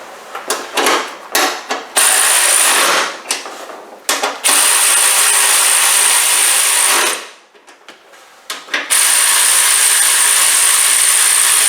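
Rapid ratchet clicking snugging up a part on a 2007 Range Rover 4.2 supercharged engine during a head gasket job, loud and close, in several bursts with short pauses between them.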